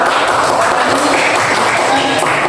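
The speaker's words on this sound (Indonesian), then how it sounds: "kasih tepuk tangan dulu untuk Kak Indah." A class gives applause for a fellow student, producing loud, close, continuous clapping from a roomful of people, with some voices mixed in underneath.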